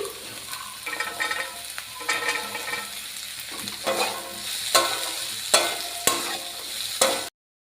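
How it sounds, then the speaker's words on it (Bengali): Chopped capsicum stirred as it fries in a pan, a steady close sizzle broken by scraping strokes of the spoon, with several sharper clinks toward the end and no talking. "ক্যাপসিকাম ছোট ছোট করে কেটে রেখেছিলাম একদম ছোট ছোট কুচি কুচি করে দিয়ে দিলাম নাড়তে থাকো"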